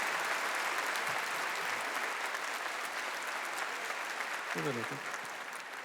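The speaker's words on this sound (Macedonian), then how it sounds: "Un аплауз за вас." Sustained audience applause at a music award show ceremony, a dense steady clapping wash filling the whole stretch, with a host's brief spoken words breaking through near the end.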